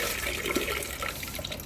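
Water runs and splashes steadily from a tap while a bird drinking bowl is rinsed, a close continuous wash with no talking.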